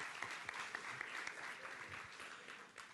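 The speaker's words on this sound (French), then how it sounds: "On l'applaudit." Lecture audience at the Institut du Monde Arabe in Paris clapping for a speaker on Fayrouz, a soft, fairly distant wash of steady applause throughout.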